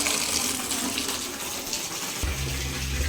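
Water pours steadily into a washing machine under repair for a leak, a continuous splashing rush that deepens toward the end as the level rises, with no talk.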